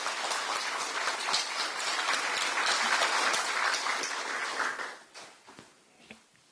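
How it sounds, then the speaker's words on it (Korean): A crowd at a political rally in Gwangju claps loudly and continuously, with occasional sharper claps standing out, before the applause fades to lighter scattered clapping near the end. "큰 박수 부탁드립니다."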